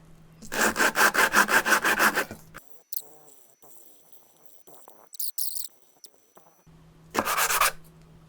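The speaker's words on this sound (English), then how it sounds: "I'll sand it back and forth until it's very smooth and straight on the bottom." Section of metal pipe lapped back and forth on coarse sandpaper laid on a workbench, a close, loud rhythmic rasping of about a dozen quick strokes, then quiet handling noises and a brief final burst of scraping.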